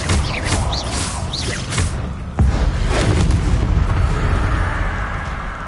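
Bombarda blasting spell going off in a video game, a sudden heavy booming burst partway through that rolls into sustained rumbling, loud and close, following a few fainter whooshing spell effects.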